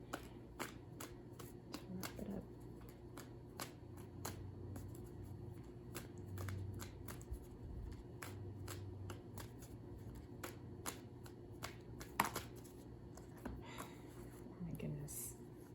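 Tarot cards shuffled by hand in a steady run of crisp, close riffling snaps lasting about sixteen seconds, with a low hum underneath and faint bits of soft voice here and there.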